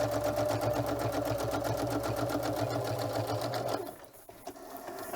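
Sewing machine running a straight stitch, a steady fast mechanical whir with a rhythmic needle beat, close and loud, then stopping abruptly near the end.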